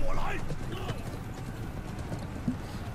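Horse hooves clip-clop in a steady rhythm from cavalry in the video game Blood of Steel, with someone talking over them throughout.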